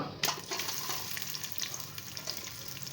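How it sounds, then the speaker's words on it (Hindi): Finely chopped onions hit hot oil and fry on a medium flame, a sudden burst of steady, fairly faint crackling sizzle that holds for a few seconds. "अब हम इसको फ्राई करते हैं मीडियम फ्लेम पे"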